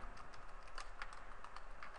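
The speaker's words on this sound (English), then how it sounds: "all you do is you type whatever you want" Fingers tap out a quick, steady run of keystrokes on a computer keyboard while entering text into a spreadsheet, the clicks close and fairly light, with no voices.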